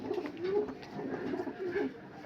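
A pigeon coos softly nearby, two rolling low calls with a short pause between them over a quiet background.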